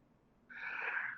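A person sneezes once, a short, breathy burst that is moderately close and quiet, standing alone without talk over it.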